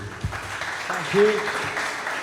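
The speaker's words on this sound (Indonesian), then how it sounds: "tepuk tangan buat Ustadz Mujadi" An audience at a Quran study gathering claps briefly for a religious teacher, a short patter mixed with talking voices.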